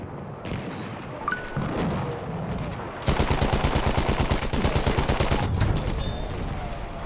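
A Madsen LMG fires in Battlefield 1: after scattered distant shots, a sustained rapid burst of loud machine-gun fire rattles steadily for several seconds.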